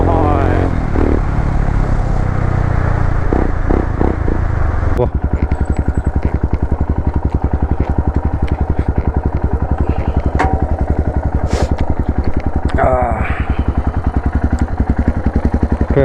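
A Royal Enfield Himalayan 411 fitted with an Akrapovic exhaust revs loudly and close, a deep thumping single-cylinder idle rising into sharp throttle blips, with a person talking over it.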